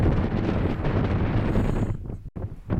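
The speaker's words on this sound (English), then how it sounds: "Very breezy though." Strong wind buffeting the microphone on Ingleborough in the Yorkshire Dales, a loud continuous roaring rumble that drops away briefly near the end before gusting again.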